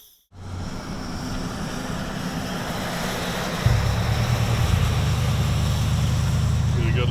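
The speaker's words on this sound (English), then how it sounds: "We got a south wind." A south wind blowing outdoors in open country, a steady broadband rush that holds loud and constant throughout and thickens after a brief quiet start, with low rumbling gusts buffeting the microphone.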